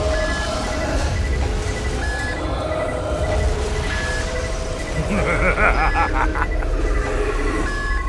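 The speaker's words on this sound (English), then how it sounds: "Hear that alarm in the background?" Repeated electronic alarm beeps sound in the background at a steady interval, mixed with game sounds and rumbling noise.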